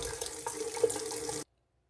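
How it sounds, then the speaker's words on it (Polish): Tap water runs steadily into a sink while tweezers are washed, a close, even splashing stream that stops abruptly after about a second and a half. "Idziemy pensety umyć."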